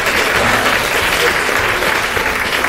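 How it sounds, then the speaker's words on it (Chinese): Loud, steady applause from an audience at a Tainan press conference, honoring the mayor, dense clapping sustained evenly throughout without pause. "我要给市长一个掌声。"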